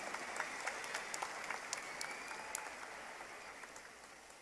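An audience at a convention in Dallas applauds a lifetime achievement award recipient, steady, fairly faint clapping from many hands sustained throughout.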